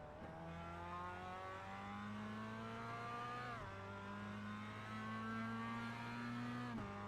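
Mazda MX5 race car at Tsukuba in the iRacing sim, its engine droning loudly and steadily as revs climb through the gears, with two sharp shifts and a dip under braking, no voices over it.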